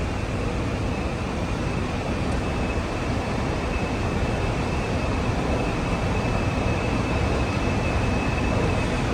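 A driverless Sydney Metro train running along its line, with a steady broadband rumble and rush of wheels and air, a constant high whine on top, loud and continuous with no voices.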